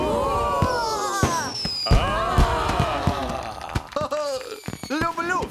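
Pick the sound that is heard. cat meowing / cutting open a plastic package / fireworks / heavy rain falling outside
fireworks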